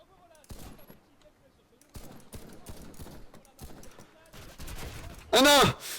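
Gunfire in the Warface video game, the FY-47 Gold rifle, comes as scattered sharp shots and short bursts with quiet gaps between them, followed by a loud burst of sound near the end.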